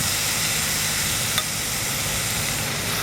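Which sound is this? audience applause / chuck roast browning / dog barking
chuck roast browning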